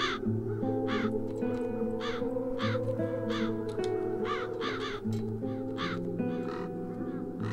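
Crows caw repeatedly in the fantasy adventure game Satinavs Ketten, harsh calls coming in an irregular series over a low, steady game music background, moderately close and with no talking.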